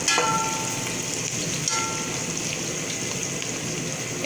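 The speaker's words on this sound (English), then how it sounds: "I'm gonna add some oil to fry the onions." Onions frying in hot oil give a steady, loud, hissing sizzle, close and continuous from start to finish, with a brief surge at the beginning.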